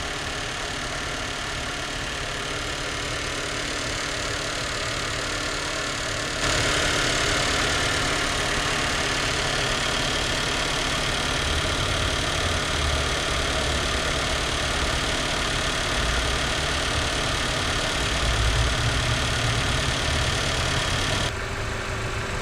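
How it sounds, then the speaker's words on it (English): A 2022 Nissan Sentra engine idles steadily while warming up, a constant mid-pitched hum with a slight shift in tone partway through, running alone without talk. "I will be warming up the car, let it run for 5 minutes"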